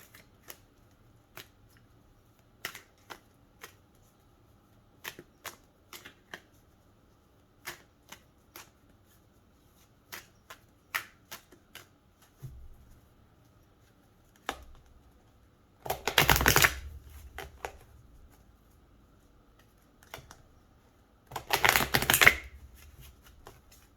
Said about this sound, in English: let's pull some additional oracle cards for you